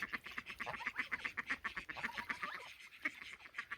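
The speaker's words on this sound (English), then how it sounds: "Scaring all the ducks." Ducks on a hilltop farm quack in a busy, overlapping chorus of short repeated calls, fairly close and steady with a brief lull near the end.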